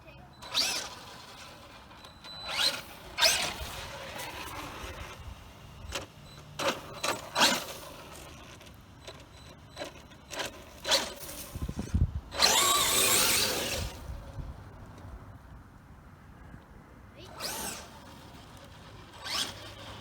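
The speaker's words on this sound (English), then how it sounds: "Just trying some burnouts." A Traxxas Maxx RC truck does burnouts on sand, with repeated short bursts of whirring motor and spinning tires at close range, one longer rush in the middle, and people talking between them.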